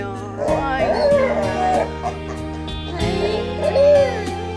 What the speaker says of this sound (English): He's howling, he's talking